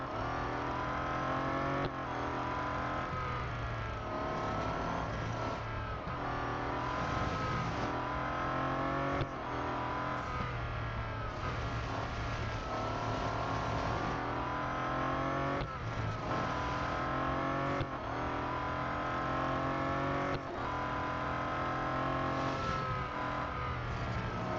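Bentley Continental GT Speed engine in the Real Racing 3 game, a sustained, steady roar that rises and shifts through repeated gear changes over about twenty-five seconds, with no voices.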